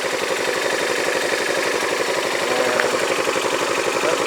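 Yamaha Majesty scooter engine running on a lift in a workshop, a steady close, loud idle with a fast regular pulsing throb and a faint intermittent clanking, no voices over it.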